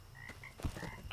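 Frogs croak in the dark at night in the video game The Demonologist, a few short, nearby croaks repeating over a soft background of chirping ambience.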